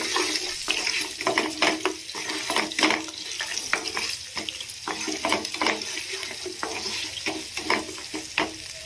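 Idli upma ingredients frying in a pan with turmeric being stirred in, a steady bright sizzle broken by repeated scraping strokes of a spoon, close and fairly loud with no talking.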